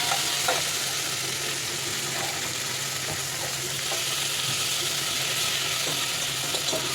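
Eggplant sautéing in oil for sambar in a pan, a dense, steady sizzle throughout with occasional light scrapes of a stirring utensil, close and fairly loud.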